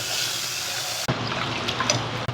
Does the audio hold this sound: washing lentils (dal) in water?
yes